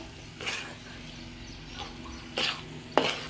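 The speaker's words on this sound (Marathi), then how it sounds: "गोळा होईपर्यंत ह्याला आपल्याला हलवून घ्यायचं आहे" Thickening mango burfi mixture being stirred in a pan, a few soft scraping sweeps separated by quiet gaps, with one sharper scrape near the end.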